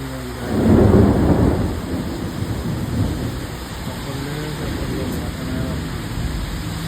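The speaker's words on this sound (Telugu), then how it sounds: "ఫుల్ వర్షం" Heavy rain pours down steadily in Hyderabad while a loud roll of thunder rumbles early on and then fades into the constant wash of rainfall, with no voices.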